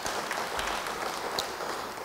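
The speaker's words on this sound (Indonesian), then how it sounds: "beri tepuk tangan bagi dia" A church congregation claps in a brief, steady burst of applause, moderately distant and even throughout.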